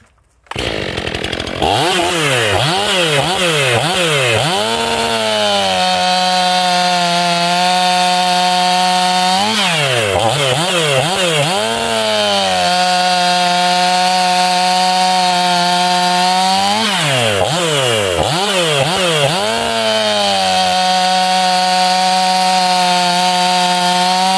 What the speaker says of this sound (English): fire it up, just do a couple of cuts